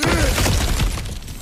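Something smashed to pieces in God of War Ragnarok, a loud, dense burst of breaking debris and shattering fragments that crashes at once and then tails off.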